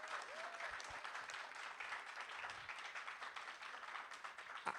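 An audience gives sustained applause, a steady wash of clapping from many hands heard at moderate distance, continuing evenly throughout with no gaps.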